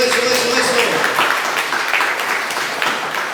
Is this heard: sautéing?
no